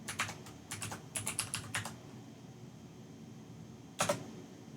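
Typing on a computer keyboard while setting up R and RStudio on Windows 10: several quick bursts of clicking keystrokes over the first two seconds, a pause, then one more short flurry near the end, close and moderately quiet.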